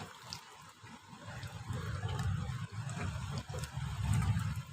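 Floodwater washing across a rooftop in Qatar after heavy rain and hail, a steady low splashing and trickling flow that swells and eases, fairly close, with no voices.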